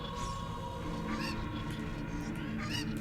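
Cuckoo chicken from Ocarina of Time clucking in a randomizer run, several short honking squawks repeating over a steady game background hum.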